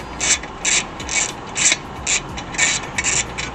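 Ratchet wrench loosening the bolt on a Ford Fiesta ST180 torque mount, a run of crisp, close mechanical clicking bursts in a steady rhythm, heard alone.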